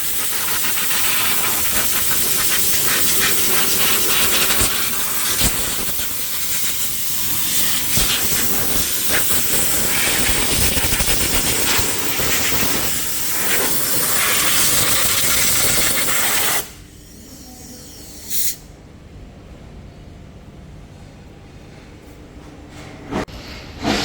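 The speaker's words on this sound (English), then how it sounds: "You can use air to dry the engine bay" Compressed air blasts loudly and steadily into a car engine bay to dry it after washing, a strong continuous hiss for about sixteen seconds, then stopping, with two brief short bursts after that.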